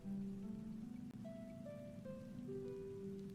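Soft, steady rain falls on a quiet night, a faint even wash heard from indoors with low sustained tones and no voices.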